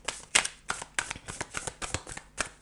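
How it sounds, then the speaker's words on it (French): A deck of oracle cards is shuffled by hand in a run of about eight or nine quick papery riffles and slaps, close and crisp, with no talking. "je vais battre un petit peu"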